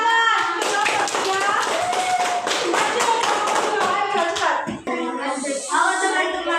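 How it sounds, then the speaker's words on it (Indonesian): Students in a classroom clap their hands together after a group presentation, a burst of fairly close, uneven clapping with children's voices chattering over it before it trails off. "Oke, beri tepuk tangan."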